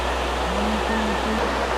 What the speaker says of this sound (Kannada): ನೋಡೋದೇ ಇರ್ಬೋದು ನೀವು ಎಷ್ಟು ಸ್ಮೂತಾಗಿ ಹರಿತಾ ಇದೆ ನೀರು